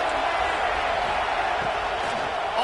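Steady stadium crowd roar in a college football video game, Georgia versus Alabama, a constant broad wash of fans cheering heard throughout at even loudness.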